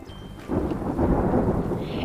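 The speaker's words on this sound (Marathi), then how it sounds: "पावसाचा सूर अंगणभर घुमू लागला" Thunderstorm sound effect: a deep thunder rumble swells in after a quieter start, over steady rain pattering on surfaces, full and close.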